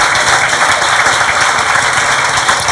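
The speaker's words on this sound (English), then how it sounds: "please give a very large round of applause for Mr. Trent Horn of Catholic Answers" Audience applause in a hall after a debate on the historicity of Jesus, a steady, full wash of clapping from many hands sustained at even loudness throughout.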